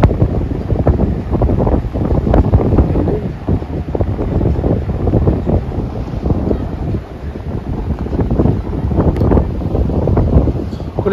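Strong wind buffeting the microphone at Paliton Beach on Siquijor Island, loud continuous gusty rumble with surf and roar underneath, fluctuating throughout with faint voices mixed in.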